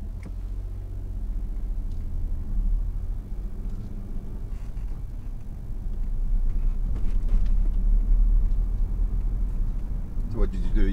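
A car pulls away during a driving lesson, its engine rumbling low and steady from inside the cabin and rising slightly as it gathers speed, with voices talking over it.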